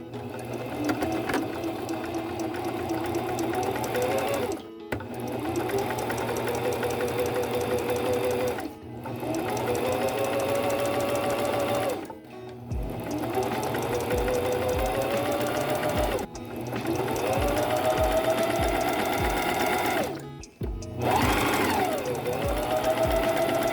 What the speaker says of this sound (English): we'll just do a zigzag over top